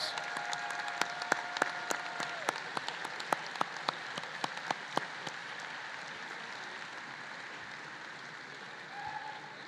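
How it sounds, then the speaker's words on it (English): A commencement audience claps continuously, a dense patter of many hands with a few sharper claps standing out, sustained and then slowly thinning. "Audience, let's please recognize these individuals with a round of applause"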